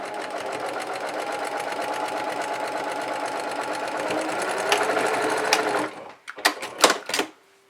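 A sewing machine runs steadily at close range, top-stitching a fabric mask in a fast, even whirring rhythm, then stops and gives a few short clicks and bursts at the end.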